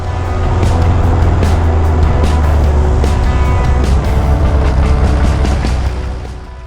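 Loud, close engine drone of a 1919 Henderson motorcycle riding away on a road run, a steady rumbling roar that holds for several seconds before easing off at the end.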